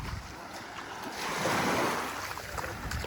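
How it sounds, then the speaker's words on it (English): Ocean waves roll onto a beach in Cozumel, Mexico, one rising and falling wash of surf under steady wind noise. "I got distracted for a second by the beautiful water coming in"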